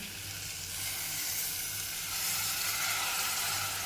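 Dal and rice being mixed in a sizzling pan for quick pea rice, giving a steady, close hiss with a broad bright frying texture and no talk.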